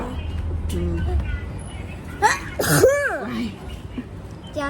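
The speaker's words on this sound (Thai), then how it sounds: "จามสักหน่อยค่ะ" A woman gives one sharp sneeze in the middle of the clip, followed by a voiced exclamation, over steady background noise.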